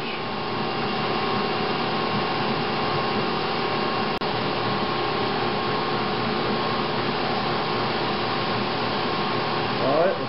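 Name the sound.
bandsaw running and warming up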